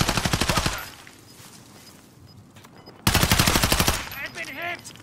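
Two rapid bursts of close, loud automatic gunfire in Call of Duty Warzone, one at the start and a longer one after a quiet gap, followed by a brief voice.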